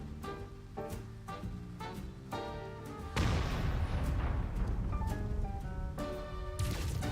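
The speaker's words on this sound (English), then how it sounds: "The sound on that railgun is kind of funny." Railgun fire in the MechWarrior video game: a heavy, booming crack erupts midway and rolls into a dense, rumbling roar. Sharp shots sound earlier, all over steady background game music.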